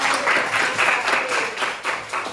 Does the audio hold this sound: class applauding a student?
yes